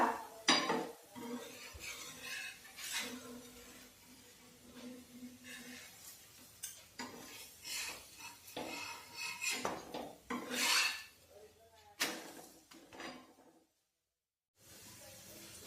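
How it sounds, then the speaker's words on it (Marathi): A gram flour dhirde pancake is flipped and worked on a pan, with rasping scrapes and clinks of a spatula against metal in bursts, then a brief silence near the end. "आता दिरडा पलटून घेऊया"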